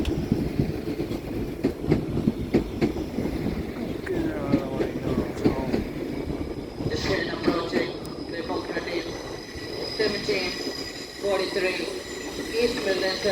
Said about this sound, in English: 17512 and 17501, running 6 minutes late with a 1743 East Midlands Railway service from Liverpool Lime Street through to Nottingham